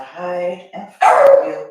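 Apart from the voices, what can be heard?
dog barking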